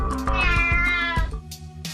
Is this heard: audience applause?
no